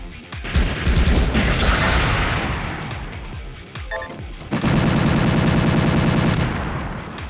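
Heavy bursts of gunfire from a PS2 role-playing game, loud, booming volleys that pause briefly near the middle and then return as a steady rapid stream of shots.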